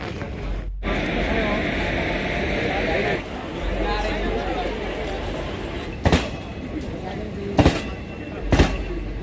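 The Nandigram Express rolls through Nanded railway station, a loud continuous rumble under crowd chatter from the platform, with a few sharp knocks near the end.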